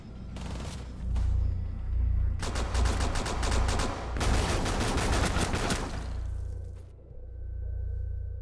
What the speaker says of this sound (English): He's gonna find one onto Ballistic, but gets flanked from behind by the shotgun of Lethal Damage.